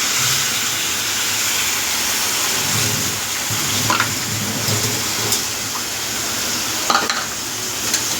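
A spice paste of ginger, cumin, coriander and turmeric fries in a pan with a dense, constant sizzle and hiss, marked by occasional stirring clicks and scrapes close by.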